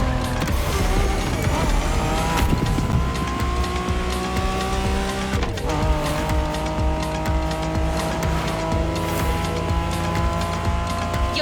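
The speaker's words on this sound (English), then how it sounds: "Good thing you're driving the 1969 Camaro Z28." A 1969 Chevrolet Camaro Z28 muscle car in The Crew Motorfest racing game, its V8 engine roaring steadily close up with shifting revs, tire squeal and a sharp gear change partway through.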